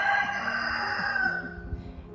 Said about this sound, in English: we're having a rooster crowing more.